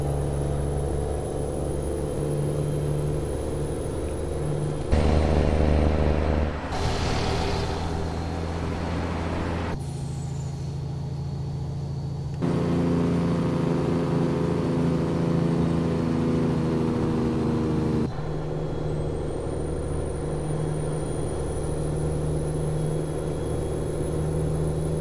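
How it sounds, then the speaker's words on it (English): A heavy truck engine rumbles in the American Truck Simulator game, with the engine brake shifting its tone in several abrupt stages: a steady drone, then harsher, louder stretches, and a high whine returning near the end, with no talk. "Why do people have to change engine brake sounds?"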